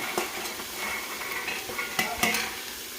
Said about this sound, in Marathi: सगळं आता छानपैकी आपण हे परतून घेऊ